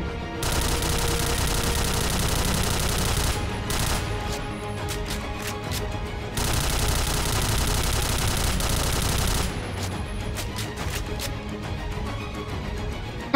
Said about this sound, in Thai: เราควรยิงครั้งละสองถึงสามนัดก็ดีนะครับ